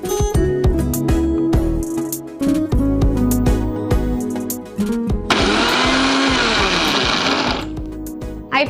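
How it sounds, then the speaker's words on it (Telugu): A kitchen mixer grinder whirs while grinding a powder, with short bursts and pauses before a long, loud high-pitched run near the end; clattering and brief handling sounds come in between. "ఇది మిక్సీ పట్టేసి వస్తారా?"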